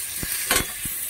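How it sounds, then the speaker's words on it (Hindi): Brief hiss and sizzle of spices hitting hot oil, with a few soft clinks of stirring. "इधर हमारा तड़का तैयार हो रहा है"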